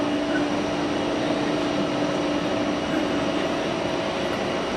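Engine noise from an Embraer E195-E2 jet at Hamburg Airport, a steady broadband roar with a sustained tonal hum underneath, constant and moderately loud for the whole stretch, with no voices over it.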